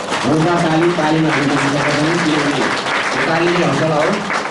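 Applause from the audience at a community general assembly, a sustained wash of clapping heard under someone speaking over a loudspeaker.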